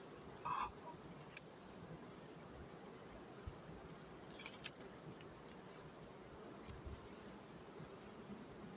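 A steady, low insect buzz of Italian honeybees at a hive fills the air, with a brief louder bump near the start and no talking.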